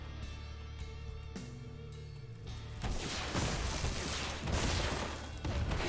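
A burst of rapid explosive blasts and crackling booms, loud and dense, follows a sustained tonal hum, as rockets fire in the video game The Binding of Isaac: Repentance.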